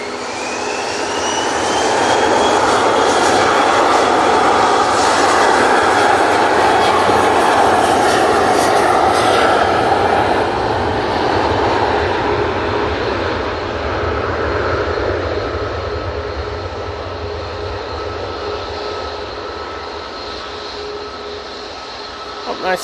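An Emirates jet airliner at Manchester Airport roars steadily and loudly, its broad engine rumble swelling and then slowly easing off while a voice speaks faintly beneath.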